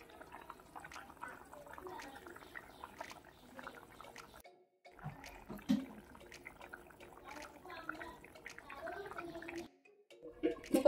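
Fish kofta and potato curry bubbles in a pot on the stove, a close, steady gurgling simmer with brief quiet gaps and a few louder plops toward the end.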